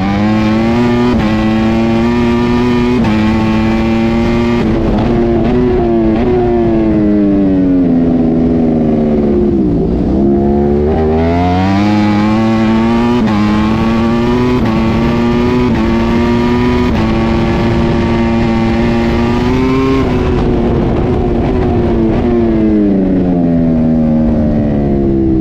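Racing motorcycles, including a team Altea Honda, scream loudly through rising and falling revs, gear shifts and passes, their engine whine sweeping up and down in a continuous close roar.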